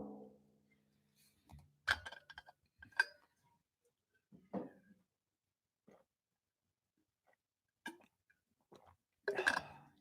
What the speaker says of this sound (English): Excuse my gulp.